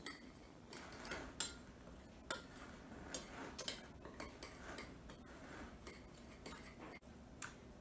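Dry ingredients for Cornjacks are stirred gently in a bowl, producing quiet, close ticks and light metallic clinks of a utensil scattered irregularly over a soft background.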